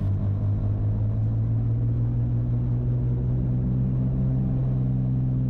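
A small airplane engine drones loudly and steadily in the cockpit as the throttle comes up for takeoff, its deep hum holding constant throughout without voices.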